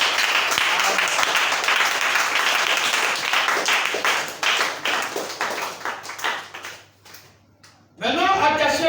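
A church congregation applauds with dense, rhythmic clapping that gradually fades away and stops. A voice then starts speaking.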